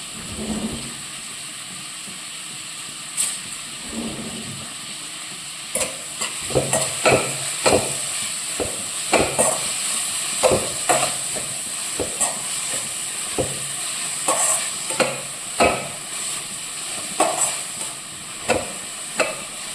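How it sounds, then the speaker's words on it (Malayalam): Sliced onions frying in a pan hiss and sizzle steadily while a spoon stirs them, with frequent sharp scraping clacks against the pan at an uneven rhythm. "സ്പൂൺ ചേർത്ത് നന്നായിട്ടങ്ങ് വരക്കണം നല്ലോണം വരണ്ട് വരണം സവാള"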